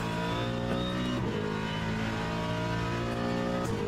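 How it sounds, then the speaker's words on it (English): Ford Mustang LMGT3 race car in a racing game at Spa, engine roaring steadily and loud at high revs with shifting pitch, nearby and constant throughout. "The car's far too loud."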